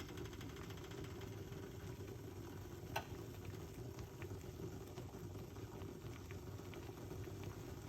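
Liquid boiling hard in a pot on a cooker, a drink made with garlic, gives a steady, dense bubbling roar with one sharp click partway through and no voices.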